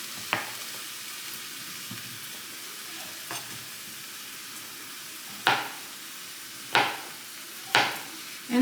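Chicken frying in a pan with a soft, steady sizzle in the background, broken by several sharp clinks of a utensil stirring against the pan, fairly quiet and with no talking.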